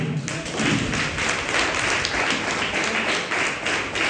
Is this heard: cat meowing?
no